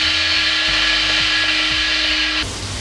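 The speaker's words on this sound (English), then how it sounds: "So the crayfish goes into the blender alongside the okwehe." A kitchen blender whirs at a high pitch while grinding crayfish and okwehe. The loud, steady motor note lasts a few seconds, then drops as the blades slow down.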